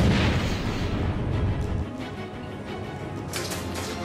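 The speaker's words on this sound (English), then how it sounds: "Grenade!" A grenade blast in the Batman: Arkham City video game, a loud, deep, rumbling burst that begins at once and fades into a low rolling tail, followed by a fainter crackle.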